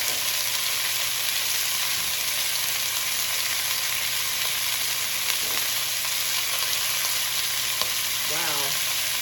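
Emu meat pieces sizzle and fry steadily in the bottom of a pot as they brown for goulash, a loud continuous crackle with faint stirring clinks and no voices.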